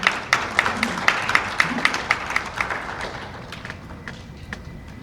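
At an ESG award ceremony, a few sharp, rhythmic claps ring out near the mic over a broader audience applause that gradually thins and trails away over several seconds.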